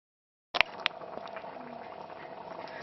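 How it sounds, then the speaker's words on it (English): Chicken and chickpea curry simmers in a pot with soft bubbling and light popping after a couple of sharp clicks at the start, faint and close. "I'm just going to let that simmer and come to the boil again"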